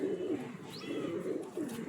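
Pigeons coo in a low, soft, throaty rumble, with a brief higher chirp partway through, close by in a pigeon-keeping setting with no talk.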